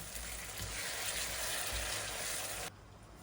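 Masala spice paste sizzles steadily in a hot pan while being sautéed for a Bengali wedding-style chicken roast, a loud continuous frying hiss that cuts off abruptly near the end.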